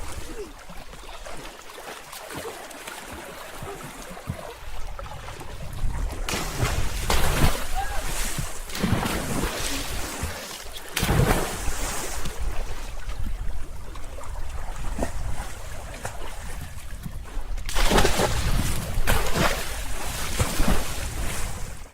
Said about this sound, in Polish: To był dźwięk skoków na bombę do jeziora.